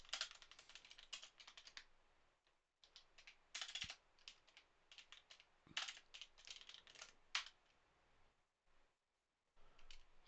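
Quiet typing on a computer keyboard, with uneven bursts of clicking keystrokes broken by short pauses and near-silent gaps.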